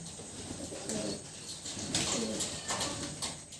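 Pigeons coo softly in low, repeated murmurs, close by, over a steady outdoor background with faint chirps.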